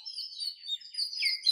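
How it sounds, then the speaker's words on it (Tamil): Many small birds chirp and tweet outdoors, a steady overlapping chorus of high calls at moderate loudness with no other sounds. "உண்மை உண்மைன்னு சொல்லி பறவைகள் சங்கீதம் இடுகின்றன."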